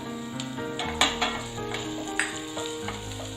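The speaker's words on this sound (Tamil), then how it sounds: "அடுத்ததான் இஞ்சியை நம்ம வதக்கிக்கலாம். இது கூடவே பூண்டையும் சேர்த்துக்கலாம்." Ginger and garlic sautéing in a pan for ginger chutney, with a steady close sizzle of frying and a few sharp clinks and scrapes of a spoon stirring against the pan.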